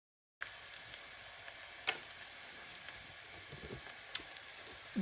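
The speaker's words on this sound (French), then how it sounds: "Donc là, nous avons un oignon qui commence à bien cuire" An onion frying in sunflower or olive oil in a pan, a steady close sizzle with small crackling pops, heard alone after a brief silent start.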